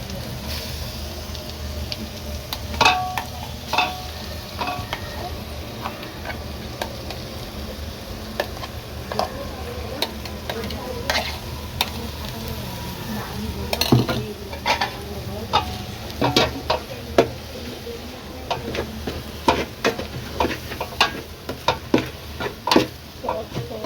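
Onion and coconut paste being stirred into frying masala for crab curry, a continuous sizzle with frequent scraping and knocking of a spatula against the pan, close and moderately loud, with no speech.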